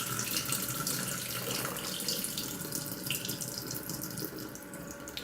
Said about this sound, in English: So now I will dump off all this extra water